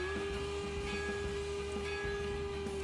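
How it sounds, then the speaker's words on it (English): A steam train's whistle in the Railworks train simulator sounds on a winter morning run to Promontory, one sustained steady tone held throughout over a low rumbling engine background. "I'll send the whistle."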